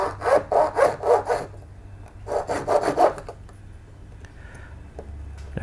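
A hand saw cuts through small brass tubing in two short bursts of rapid, rhythmic back-and-forth strokes, close and clear, then a faint tap and quiet.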